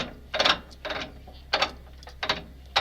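The steering rack of a rare ZIL 4975 six-wheel-drive truck, turned by hand, gives several separate grinding, ratcheting mechanical bursts with short pauses between them, close and fairly loud.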